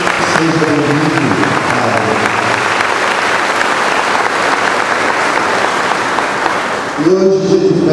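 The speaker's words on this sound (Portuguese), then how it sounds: "Uma salva de palmas a ele." Congregation applauding at a solemn Catholic mass for Our Lady of Aparecida, a dense, steady clapping that fills the church for about seven seconds before a voice begins speaking near the end.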